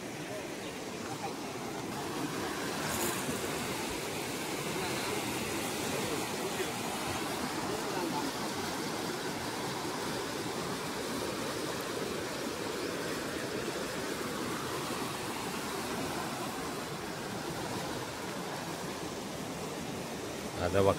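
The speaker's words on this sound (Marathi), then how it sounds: "पाणी बघा सुसाट आहे" Fast river water rushes through a canal in the Konkan hills as a steady, unbroken broadband roar that holds level for about twenty seconds.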